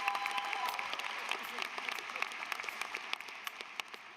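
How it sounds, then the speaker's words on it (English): Audience applause at a civil and environmental engineering graduation celebration, a moderately distant crowd clapping steadily and gradually thinning out over a few seconds. "No, go ahead and clap."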